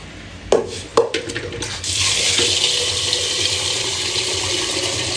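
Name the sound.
water poured into pot for cooking ration rice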